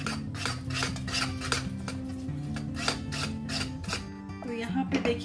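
A spoon scrapes steadily around a kadhai as a thickening milk mixture for milk barfi is stirred, with a quick repetitive rhythm of metal-on-metal rasps and faint music or voice underneath.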